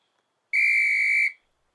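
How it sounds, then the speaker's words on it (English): A sharp whistle blast starts a game, one steady shrill tone lasting just under a second, loud and clean against a silent background. "The whistle blew, and Miss Myrtle clicked down on her timer."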